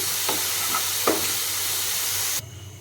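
Chana dal fries in a small amount of oil with a soft, continuous sizzle, close by, broken by a few light scraping stirs, then cutting off abruptly near the end, leaving a quiet hum.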